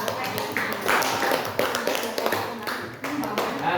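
A classroom of children clapping their hands together during a lesson, a dense, continuous patter of many small hands close by, with voices mixed in throughout.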